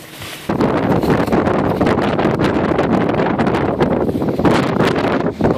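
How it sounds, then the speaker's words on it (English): Strong, cold wind at the summit of Mount Washington roars and buffets the microphone in loud, continuous gusts after a brief quieter start, with no one talking. "It's extremely cold and windy."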